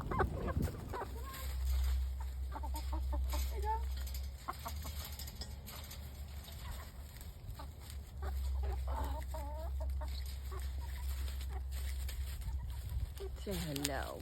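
Backyard chickens cluck and chatter steadily while pecking at kitchen scraps tossed out for composting, with occasional sharper calls over a constant low rumble, and a person talks intermittently nearby.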